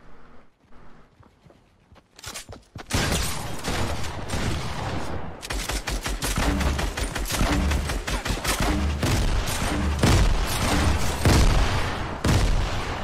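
Fortnite Battle Royale combat with a grenade launcher: rapid bursts of explosions and gunfire pile up loud and close, after a quieter opening with a few scattered shots.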